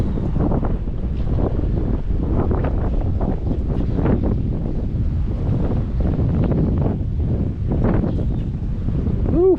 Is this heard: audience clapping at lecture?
no